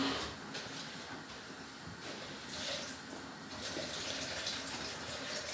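Tap water runs steadily into a kitchen sink while spinach is rinsed for soup, a continuous close splashing stream with slight surges and no talking.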